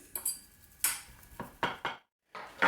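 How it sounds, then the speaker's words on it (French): A fork pressing and flattening ground beef into one large burger patty, with soft irregular taps and scrapes against a dish, close and quiet, with a brief silent pause. "avec la fourchette, j'aplatis"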